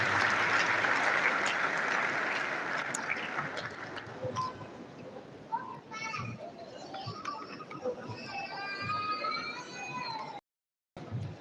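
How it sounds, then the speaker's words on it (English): Academic audience applauds to welcome a university Vice Chancellor, dense clapping for about four seconds that fades into scattered claps and murmuring voices, with a brief cut near the end. "please a round of applause while I welcome the remarks of the Vice Chancellor"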